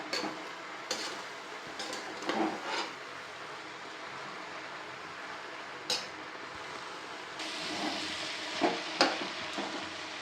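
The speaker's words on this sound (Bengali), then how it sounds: "নেড়ে চেড়ে একটু ভাজা ভাজা করে নিচ্ছি।" Boiled fish pieces being stirred and lightly fried in a pan, a quiet, low sizzle with scattered spatula scrapes and taps against the metal, some louder strokes near the end, and no talking.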